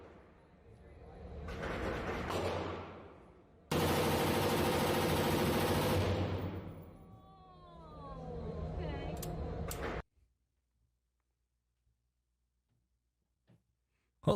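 Heavy gunfire from a big gun, a dense sustained roar of rapid shots in long bursts that swell and fade over about ten seconds, then cut to near silence.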